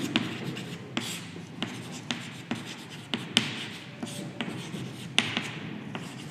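Writing on a classroom board during a commerce lecture, with repeated scratchy strokes and sharp taps of marker or chalk at an irregular rhythm, close and clear, with only faint background voice.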